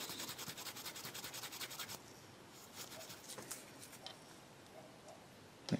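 Paint brush bristles are rubbed during cleaning after model painting, giving soft, close, scratchy strokes that repeat quickly at first and then turn sparser and very quiet.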